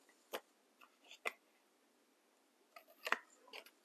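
Scissors snip through paper card stock in a few faint, close cuts: two single snips, then a quick cluster of three or four more near the end.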